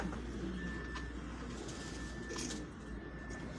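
Pigeons kept at a family home coo softly on a rooftop, low repeated throaty calls at a distance under a quiet outdoor hum, with a faint steady tone running through the background.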